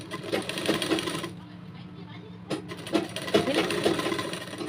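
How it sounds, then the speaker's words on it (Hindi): A sewing machine stitches a kanchli blouse in short, uneven bursts, with a quieter lull partway through before the stitching resumes. "यहाँ पे भी सिलाई लगा देनी है, सिलाई लगाते जाना"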